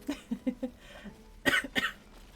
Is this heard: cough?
yes